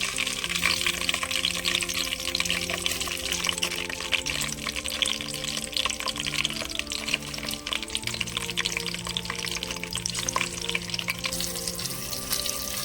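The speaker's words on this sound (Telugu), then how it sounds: "ఇప్పుడు ఫస్ట్ మనం పచ్చిమిర్చి, ఎండుమిర్చి నూనెలో వేయించుకుందాం." Green and dry chillies frying in oil in a home kitchen for a ridge gourd and peanut chutney, a steady dense sizzle with crackling that runs the whole time at close range, with no talking.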